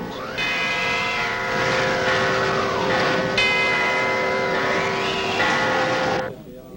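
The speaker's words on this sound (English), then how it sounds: "all the church bells in town are tolling wildly in the winds" Loud, sustained church bell tones toll wildly in strong hurricane winds, ringing and wavering in pitch, blending into a howling drone for several seconds before cutting off abruptly.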